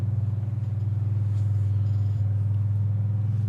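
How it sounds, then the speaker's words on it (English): A loud truck engine idles in a deep, steady rumble on a farm, its low drone holding constant and close with a faint throb and no voices. "That truck's loud."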